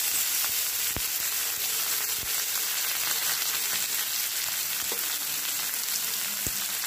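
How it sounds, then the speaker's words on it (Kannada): Chopped onions frying in a pan give a constant, even sizzle, with a few sharp crackles and pops scattered through it and no talking. "ಈರುಳ್ಳಿ ಚೆನ್ನಾಗಿ ಫ್ರೈ ಆಗಿದೆ."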